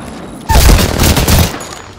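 A loud close burst of rapid gunfire in a shooter video game, a dense crackling volley lasting about a second, with no talk.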